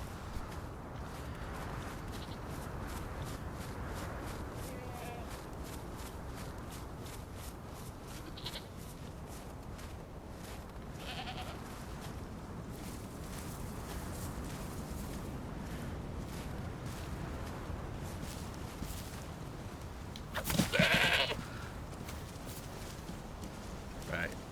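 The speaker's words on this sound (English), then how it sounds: "find this goat, which is right there." Goats in the DayZ video game bleat now and then over steady outdoor ambience, with one louder, closer bleat near the end, while someone talks through most of it.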